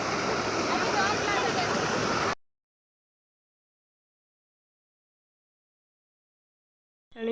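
Floodwater rushes in with a loud, close, broadband roar like a torrent for about two seconds, then cuts abruptly to silence, with a brief faint noise at the very end.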